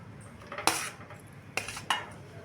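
Cooked rice being mixed with tamarind in a metal pot, with several sharp spoon-on-metal clinks and scrapes spaced apart over a quiet background, no voices.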